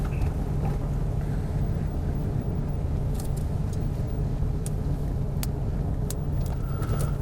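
Cars driving past on a damaged highway work zone road, a steady loud rumble of traffic and engine noise close by, continuous throughout without speech.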